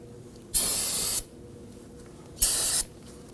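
Spray solvent blasted to clean CV axle grease off a 2005-2009 Subaru Legacy 2.5L H4: two loud, close hissing bursts, the first about two-thirds of a second and the second slightly shorter, with quiet pauses around them.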